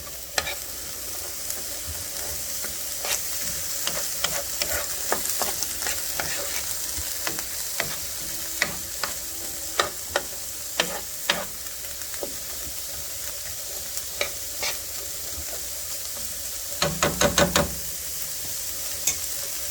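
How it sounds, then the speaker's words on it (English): Gumbo vegetables sauté in vegetable oil under a steady close sizzle, with scattered utensil scrapes and stirring knocks and a brief quick burst of clatter near the end. "So you saute these in a little bit of veggie oil."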